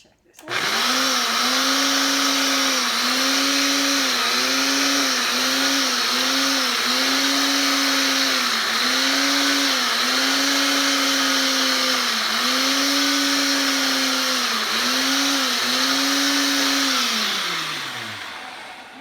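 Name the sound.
blender whipping homemade whipped cream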